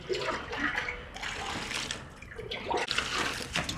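Water pours into a bowl of gram flour batter for halwai-style langar pakoras, making a steady, close splashing and gurgling rush that runs without a break.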